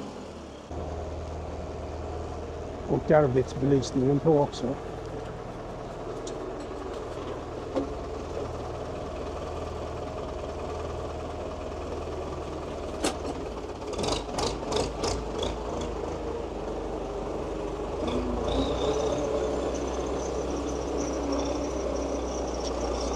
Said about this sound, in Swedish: Dags för traktorn att jobba.